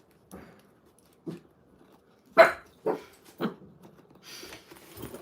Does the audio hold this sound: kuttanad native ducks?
no